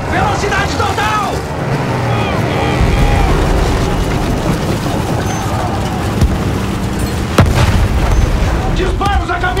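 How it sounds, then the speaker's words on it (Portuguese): Artillery fire and explosions in the World War I shooter Battlefield 1, heavy booms and bursts rolling through a dense, loud battle din with shouted voices over it. "A artilharia está acabando com os nossos rapazes!"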